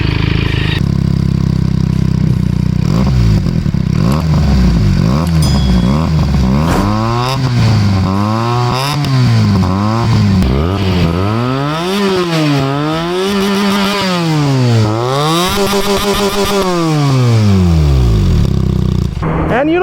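Benelli TNT 300 motorcycle with an IXIL X60 exhaust revved while stationary: a loud, close engine that climbs and falls again and again in repeated throttle blips, a rising-and-falling rasp held for about twenty seconds with no talk.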